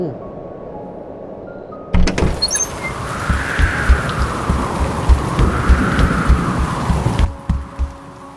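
Heavy rain and storm noise rush in suddenly, a dense broadband roar with gusting swells, holding steady for several seconds before cutting off abruptly.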